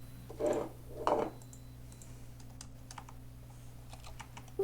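Keys clatter on a computer keyboard in a few quick bursts early on, then lighter scattered taps under steady low electrical hum in a programming class session.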